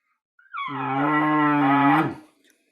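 A hand-held elk call with a heavier reed imitates an older, mature elk cow: one close, drawn-out nasal mew that rises briefly, then holds a full, deep tone for about a second and a half before cutting off, heard alone.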